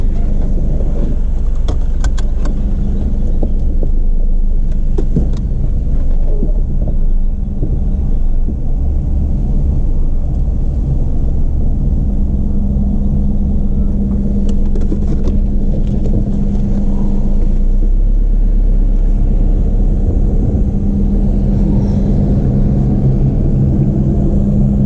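Steady low engine rumble heard from inside a car on a drive home, a continuous droning hum with faint road noise and a brief tonal rise midway, no talking.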